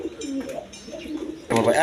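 Silver pigeons coo in a loft, soft low throaty calls repeating close by in a brief burst, with a louder flutter or call at the end.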